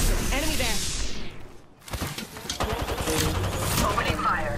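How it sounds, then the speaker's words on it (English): Rapid automatic gunfire in Apex Legends, loud close bursts that drop away briefly and then return in dense rattling volleys, with voice lines heard over the action. "Opening fire."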